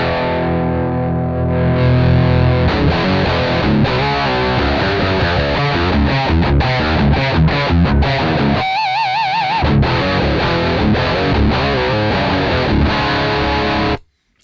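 Distorted electric guitar played through a Mooer Radar cab simulator pedal with custom EQ, a loud, close riff of chugging chords and quick notes with a brief pause near the middle, no speech.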